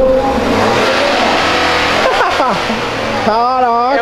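A car engine, from a car show exit, revs up loudly, climbing and falling in pitch with a few quick throttle blips, close by, with some talk under it.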